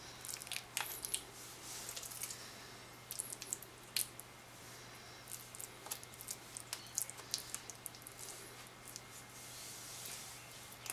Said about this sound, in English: Spoon the rice into the moulds and press it down quite firmly as you do that.